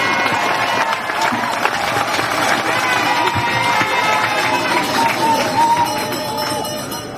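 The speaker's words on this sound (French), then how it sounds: "Applaudissez très fort pour le Père." A church congregation applauds for a priest during a Catholic ceremony, loud dense clapping mixed with crowd murmur and faint voices, sustained throughout and easing toward the close.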